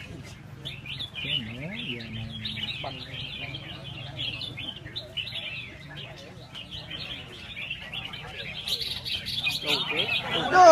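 Red-whiskered bulbuls sing at a 2017 songbird contest in Nha Trang, with bright overlapping chirps and warbles running throughout and people talking in the background.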